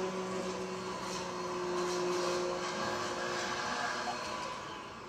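A vacuum cleaner runs indoors with a steady, moderately loud whirring drone and a constant low hum that holds for several seconds and eases slightly at the end, with no talking.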